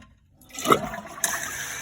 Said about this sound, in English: Now when I flush the toilet